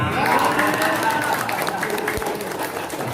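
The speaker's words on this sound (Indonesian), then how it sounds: "Tepuk tangan" Applause from an audience at the opening of an amateur radio special event station in Singkawang, a steady wash of clapping that gradually thins out over a few seconds.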